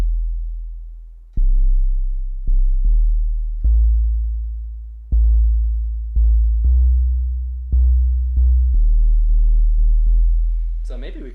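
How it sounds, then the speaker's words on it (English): A synthesized sub bass played in Ableton plays a loud sequence of deep, pure notes, each struck sharply then fading, in an uneven rhythm, with a brief warbling chirp at the very end. "That is like the subbiest of sub basses."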